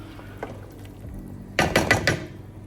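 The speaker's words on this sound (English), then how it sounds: "So now it's time for the rice to go in." Dry rice poured into a pot of boiling lamb stock for yakhni pulao, a short rattling rush of grains against metal in a few quick bursts, close and fairly loud.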